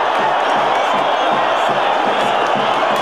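Visiting supporters at a Palmeiras away football match against Braga roar after an early goal, a dense, loud stadium crowd noise sustained throughout.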